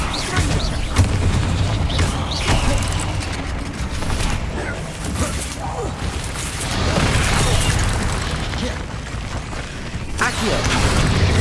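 Repeated Confringo fire spells in Hogwarts Legacy combat go off as a dense string of booming blasts and crashing impacts over about eleven seconds, loud and continuous, layered with game effects and clattering mechanisms.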